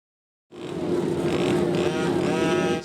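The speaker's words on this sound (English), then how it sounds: "Several cars rev up their engines as they line up to start." Several race cars at the starting line of Coles County Speedway, engines revving loudly together after a moment of silence, a dense sustained buzzing roar with rising and falling pitch.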